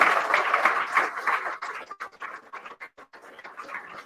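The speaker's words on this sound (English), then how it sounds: "So, ladies and gentlemen, I think we should give Noel Mooney, Chief Executive of the FAW, a round of applause." An audience at a live event applauds a football association chief executive, the clapping dense at first, then thinning into scattered, fading claps.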